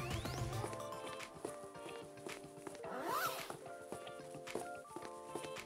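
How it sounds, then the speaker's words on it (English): Zipper on a graduation gown pulled up the front in a quick rising zip, close and fairly quiet, amid light rustling of the fabric. "zip your gown up the front"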